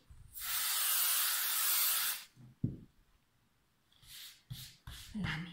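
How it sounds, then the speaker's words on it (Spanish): Spray adhesive hisses onto fabric for a multipurpose cloth basket: one long, close spray burst, then a clatter, and several shorter puffs of hissing near the end. "lo pegamos con este spray."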